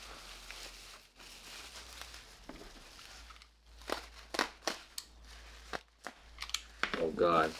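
Plastic bag crinkling and crunching as a Vortech supercharger pulley for an E46 M3 is unpacked, a run of sharp, close crackles and rustles that get busier toward the end.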